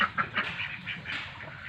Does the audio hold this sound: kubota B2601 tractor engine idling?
no